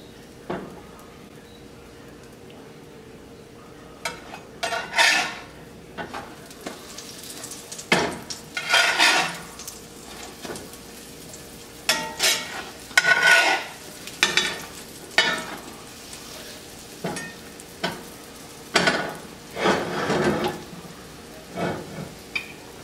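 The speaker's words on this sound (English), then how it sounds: "So this cast iron frying pan really works good on making homemade English muffins" English muffins cook in a cast iron frying pan, giving a soft steady sizzle with scattered scrapes and clinks of a utensil against the pan, close by and without talk.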